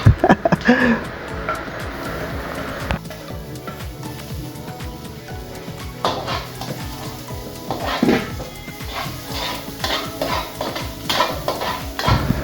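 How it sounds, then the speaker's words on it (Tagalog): Onion, garlic and ginger sautéing in a pan, with utensils clinking and scraping against the pot in scattered clatters over a low, steady sizzle, up close. "habang nagigisa-gisa na ako ng sibuyas bawang na may laiya"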